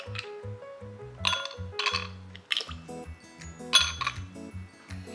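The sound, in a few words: ice cubes dropped into a glass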